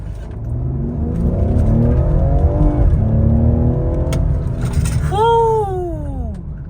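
A Ford Explorer ST pulls hard uphill, its engine note climbing steadily and loud from start to finish, with a sharp rising whine near the end, while people talk over it inside the car.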